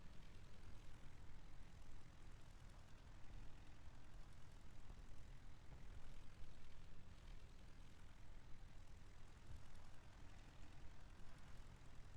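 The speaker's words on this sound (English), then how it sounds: "Take out the aeroplane." A World War I aeroplane engine drones steadily in a video game, a faint, continuous low rumble with no breaks across the whole stretch.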